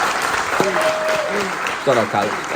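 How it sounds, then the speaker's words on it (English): Crowd applause for thirteen college graduates at a team event continues steadily beneath someone shouting briefly over it. "let's give them a round of applause."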